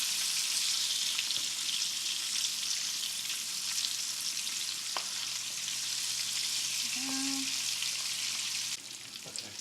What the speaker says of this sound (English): I'm going to just flip all of them and just let them cook for another 2 minutes.